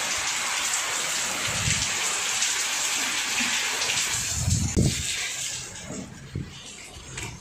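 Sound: heavy rain during a storm

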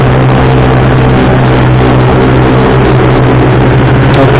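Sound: motorcycle with racing exhaust revving

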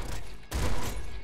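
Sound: double bouncer laser pistol firing in Nuclear Throne video game

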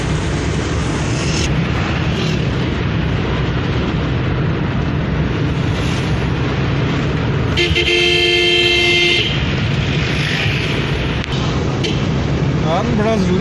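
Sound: car horns honking in city traffic

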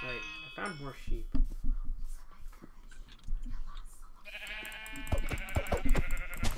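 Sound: sheep bleating in the video game Minecraft

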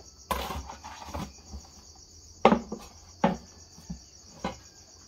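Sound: scraping a wooden crate in a bakery

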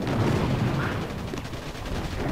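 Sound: Boom cannon shots in the video game Boom Beach

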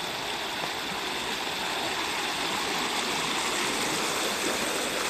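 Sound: river stream flowing

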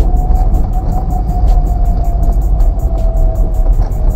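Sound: manual car engine revving while shifting gears without clutch

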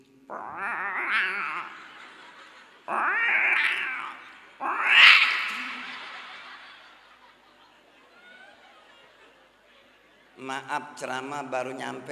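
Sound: imitation of cats caterwauling while mating

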